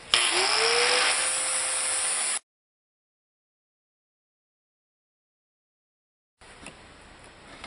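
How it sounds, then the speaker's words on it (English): An angle grinder trims down a socket while working on a Duramax LMM diesel's CP3 pump. A loud, steady grinding whine lasts about two seconds and cuts off abruptly, followed by silence and then faint background noise. "my socket is just too big for that little tiny area, so I'm clearancing it with my angle grinder"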